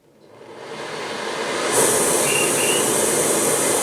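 A BRS 3000T gas backpacking stove burner lighting up and building to a loud, steady roar, rising over the first couple of seconds and then holding a continuous hissing rush close by, with no talk.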